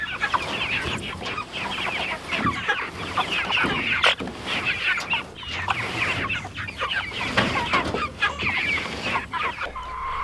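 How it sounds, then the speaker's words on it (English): A flock of Cornish cross broiler chickens, some kept in a chicken tractor, clucks and chatters without pause. The calls overlap, fairly close and busy, with no people talking. "47 broiler chickens, Cornish crosses."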